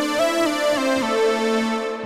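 A synthesizer tone from the Sonic Faction Clone with its sub oscillator set one octave below the main oscillators, giving a thick, buzzy, sustained sound that shifts pitch slightly over about two seconds.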